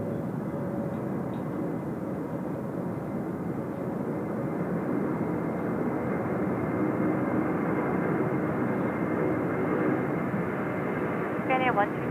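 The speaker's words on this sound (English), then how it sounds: "here we go, Korean A330 time" A Korean Air Airbus A330 airliner roars steadily at Incheon Airport, a loud sustained engine rumble that holds throughout with faint background noise.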